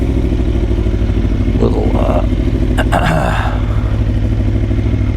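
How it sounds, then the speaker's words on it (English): Aprilia Tuono motorcycle being ridden through a neighborhood, its engine droning loudly and constantly throughout, with brief rattles and a rider talking over it. "on the Aprilia Tuono, which we're riding right now"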